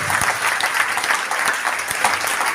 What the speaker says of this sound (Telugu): చప్పట్లు కొట్టి దేవుడి మహిమ